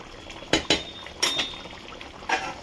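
A lid is set on a pot of simmering chicken kosha after garam masala goes in, with a few sharp metallic clanks and knocks spaced out over faint bubbling.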